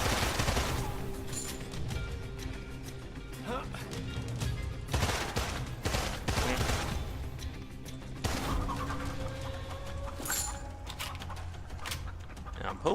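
Gunfire in Immortal Redneck, an Egyptian-themed rogue-like shooter: repeated bursts of shots crackle at moderate loudness over a busy game background, with someone talking at times.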